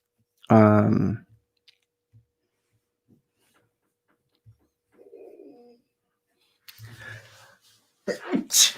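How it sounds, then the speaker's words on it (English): A single loud, sharp sneeze close to the microphone, followed by quiet clicks, a brief murmur, and rustling movement sounds. "just had to sneeze"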